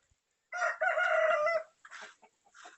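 A rooster crows loudly and close by on a Thai gamecock farm, one long harmonic call followed by a few shorter broken clucks and calls against a quiet background.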